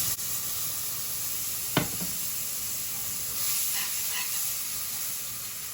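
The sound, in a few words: liquid slowly added to sizzling meatball gravy in pan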